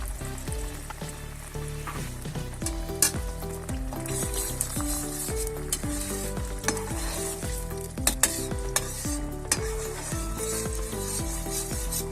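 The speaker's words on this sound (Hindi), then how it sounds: "हम इसी ऑयल में इसको फ्राई करेंगे।" Two hundred grams of homemade tomato puree fries in oil for an okra and meat dish, giving a continuous bright sizzle with occasional stirring scrapes against the pan, all under steady background music.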